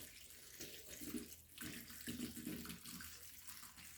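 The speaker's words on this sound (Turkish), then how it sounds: "Şimdi ince bir süzgeçten şöyle süzüyorum." Homemade hawthorn vinegar poured and strained through a fine sieve gives a steady liquid trickle and splash, moderately close and continuous, with no talk.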